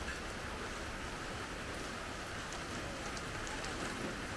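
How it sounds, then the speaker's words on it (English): Steady heavy rain pours down outdoors at a stop in Eswatini, a dense, even hiss of drops on surfaces that continues without a break and with no voices. "As you can see though, it's raining it down."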